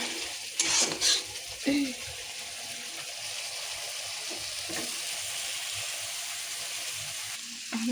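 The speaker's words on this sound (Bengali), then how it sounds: "কচুটা ঢেলে দিলাম। কচুটা ভালো করে কষাই নিয়ে" Taro (kochu) is sautéed with rohu fish and turmeric in a hot pan. A steady, close sizzle hisses throughout, with a few bursts of stirring near the start and at the end.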